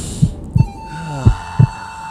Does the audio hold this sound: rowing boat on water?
no